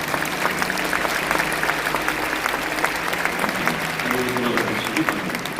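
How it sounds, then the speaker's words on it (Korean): A congregation applauds at a church pastoral ordination ceremony, sustained clapping filling the hall at an even, fairly loud level, with a low tone and murmuring underneath near the end. "이제 인사하실 때 큰 박수 받아주십시오."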